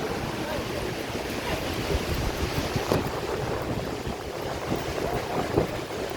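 Steady rushing water from a waterfall flowing between hills, a broad continuous roar with slight surges and wind-like noise, fairly close and loud throughout, with no talking.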